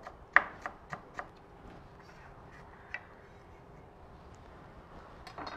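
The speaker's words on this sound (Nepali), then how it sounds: "अलिकति धनियाको एकदमै फाइन चप गरेर" A knife chops coriander finely on a board, four quick sharp taps close together at the start, then a lone tap and a few softer ones, quiet and close.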